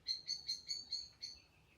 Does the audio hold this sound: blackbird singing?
yes